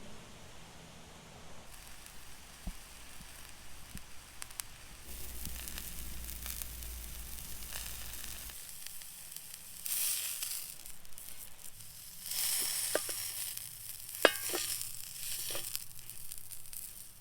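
Turkey sausage sizzles in a cast iron skillet over an outdoor campfire, a steady frying hiss with crackles and pops, louder in bursts toward the end.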